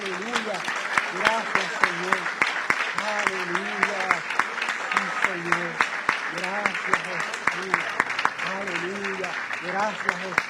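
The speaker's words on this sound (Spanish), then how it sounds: "Denle ese aplauso fuerte al Señor." A church congregation claps in a steady, rhythmic beat during worship, sharp regular hand claps mixed with singing or voices throughout.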